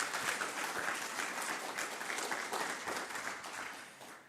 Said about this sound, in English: give a round of applause for Jonathan